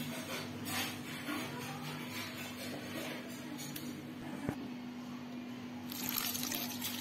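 Water poured into a pot of pahadi dal in a home kitchen, a soft, faint trickle and splash continuing for several seconds with low background hum.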